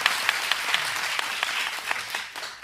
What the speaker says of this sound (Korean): 요염하게 느끼셔서 큰 박수